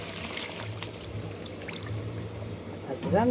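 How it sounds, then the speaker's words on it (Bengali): Water pours into a simmering light fish curry in a pot, a soft steady gurgle and trickle heard close, with a voice speaking briefly near the end. "এবার আমি দেবো একটু জল"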